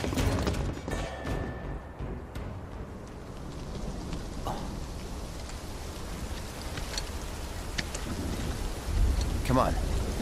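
Steady rain and rumbling thunder in the video game Final Fantasy VII Rebirth, with a continuous loud downpour and a deeper thunder roll near the end.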